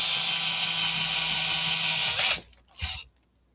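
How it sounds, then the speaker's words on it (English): A power drill fitted with a 15/64 bit bores into a guitar body, giving a loud steady high whine for about two seconds that stops abruptly, followed by a brief second short burst. "And begin the drilling process."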